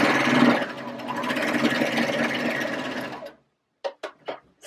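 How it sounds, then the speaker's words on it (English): A serger sewing machine stitches fabric in a loud, close, continuous rapid whir that runs for about three seconds and then stops, followed by a few short clicks and taps. "Sew off the edge of the fabric"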